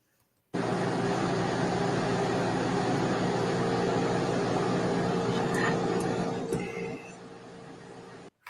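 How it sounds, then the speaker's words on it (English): A plug-in air conditioner unit runs as a steady, loud broadband hum with a constant low drone, holding evenly for several seconds, with a few faint clicks near the end before the level drops. "But you can hear the air conditioner running."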